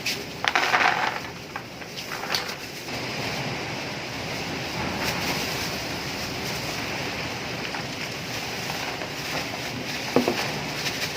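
A batch of freshly gathered pili nuts is poured out in the Philippines, giving a rattling, crunching rush that is loudest in the first second, then a steady rough outdoor noise with a few sharp clicks.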